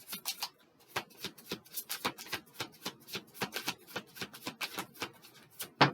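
Tarot cards riffle and snap in quick, repeated bursts, a close and brisk shuffle with an irregular rhythm, no voices.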